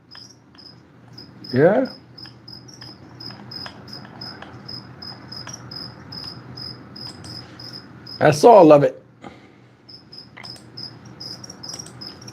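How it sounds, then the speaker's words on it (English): Crickets kept in a frog enclosure chirp in a steady, high, rapid pulse that runs almost without a break. Two short bursts of a nearby voice cut in over the chirping. "I put crickets in here in my frog enclosure and like they won't shut up."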